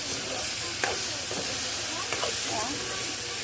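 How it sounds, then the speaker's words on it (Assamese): Red cabbage stems and lentils being stirred in a pan, a steady hissing sizzle with scraping spoon strokes and a few brief clinks, close and moderately loud. "এতিয়া আকৌ অলপ লৰাই দিছোঁ"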